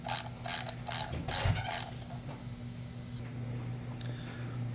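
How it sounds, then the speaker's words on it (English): A ratchet on an extension snugs down a bolt on a Chevy Cruze 1.4L turbo engine, five quick bursts of clicking close up in the first two seconds, then a quiet background hum. "I put a little extension on here. I'm just going to get it snug down."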